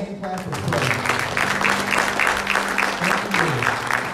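A church congregation at a Wednesday service claps hands in praise in a steady rhythmic beat, with a sustained organ or keyboard chord underneath and some voices mixed in.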